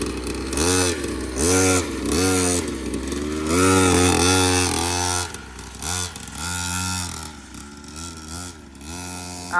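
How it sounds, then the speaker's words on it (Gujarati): A small petrol-engined two-wheeler, a children's bike, runs close by with a buzzing engine that revs up and down in repeated bursts, loud and steady throughout with no talk. "આ ઓલું છે ને ટુ વ્હીલનું આવ્યું છે પેટ્રોલ એન્જિન વાળું"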